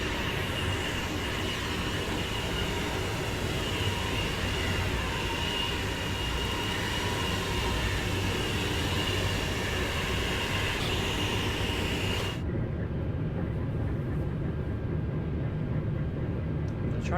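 Steady loud rumble and whoosh of high-speed trains rushing past each other in a video game on the LGV Méditerranée, a continuous roar that cuts off sharply near the end.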